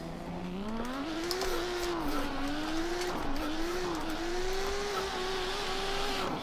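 A drift car in the Assetto Corsa racing game screams at high revs for several seconds, the engine note rising and dipping as it slides with tire squeal, loud and continuous with no talk over it.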